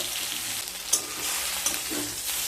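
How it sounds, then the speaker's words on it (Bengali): Eggplant pieces sizzle steadily in hot oil in a pan, a continuous broadband fry with a couple of brief sharp pops, close and alone with no voices. "বেগুনগুলোকেও হালকা ভেজে নিয়ে ফিরে আসছি।"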